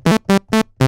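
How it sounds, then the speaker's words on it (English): A Minimoog mono synth bass patch plays four short, evenly spaced, buzzy notes in quick succession, loud and alone. "This is just a mini Moog, but the mono version of it."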